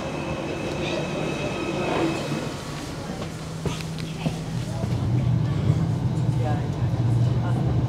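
A Class 507 train rumbles along with rattling wheels and a rising whine as it moves, loud and close, like riding inside a carriage; faint voices in the background.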